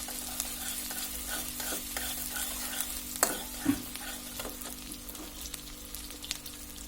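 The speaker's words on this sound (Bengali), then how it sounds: "আমাদের পেঁয়াজটা দিয়ে দিয়েছি। আমাদের পেঁয়াজটা হালকা একটু নরম হয়ে আসলে তারপর আমরা এর মধ্যে মাছগুলো দিয়ে দিব। হালকা নেড়ে চেড়ে দিচ্ছি।" Chopped onions frying in a pan for molai fish chorchori, stirred now and then, with a steady close sizzle and a few sharp scraping knocks of the spoon midway.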